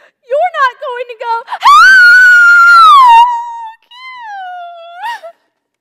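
In a stage musical, a woman lets out a long, high, shrill fan scream about a teen idol, held for over a second. Pitched vocal sounds come before it and a softer trailing wail follows.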